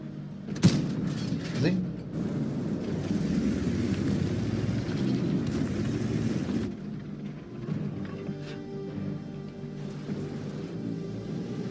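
Heavy booming cannon shots and explosions from a tank battle with the VK 28.01 105 tank, with constant rumbling action sound and a voice talking over it.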